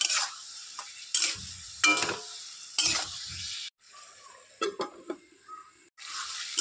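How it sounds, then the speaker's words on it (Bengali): Bhetki fish curry with green tomato and potato gets stirred in a pan with scraping clicks and soft sizzling, and then a lid clatters on, leaving a quieter simmer between sharp bursts. "নাড়াচাড়া করে ঢাকন দিয়ে দেবো কিছুক্ষণ।"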